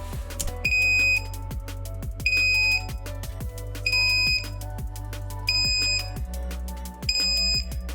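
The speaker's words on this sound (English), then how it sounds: "If the voltage on your 18650 batteries is low, the unit will begin to beep, as you can hear here." A Rekon 35 V2 flashlight emits repeated high-pitched low-battery warning beeps in short bursts, about five regular pulses spaced roughly a second and a half apart, over background clatter.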